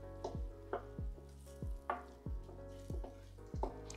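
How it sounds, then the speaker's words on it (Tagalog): Onions dropped into a hot pan for chicken penne with sun-dried tomatoes sizzle and fry, with a steady crackle broken by about seven sharp clatters of stirring or tossing, close and alone. "Now, we'll put the onions."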